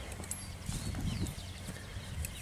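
A chestnut horse, calm and well-mannered, walks with soft, moderately close hoof clip-clops in an uneven rhythm over a low background murmur.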